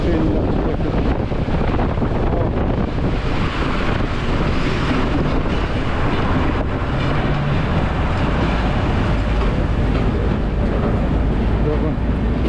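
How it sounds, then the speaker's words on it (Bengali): A train passes at Farakka, heard as a loud, continuous rumble and rush mixed with heavy wind buffeting on the microphone, steady throughout the clip. "দেখুন ফারাক্কাতে ট্রেন যাচ্ছে"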